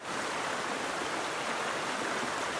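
A freshwater stream runs steadily at night during a lamp-lit hunt for wild river prawns in the dry season, giving a constant, even wash of flowing water with no voices.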